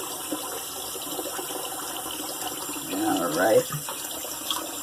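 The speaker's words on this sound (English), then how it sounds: "Talk amongst yourself while this water is running." Tap water runs into a bathroom sink during a shave, a steady broadband hiss with a louder gush near the end; a brief spoken word is heard.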